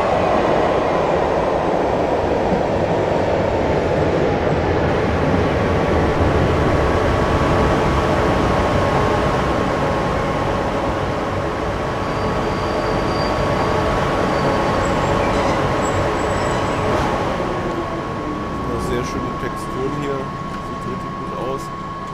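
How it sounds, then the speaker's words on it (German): A Regional Express train pulls into a station in Train Simulator 2018, with a loud continuous rumble and a steady whine from the approaching train that eases gradually toward the end; no voice is heard. "Und da kommt ein Regionalexpress."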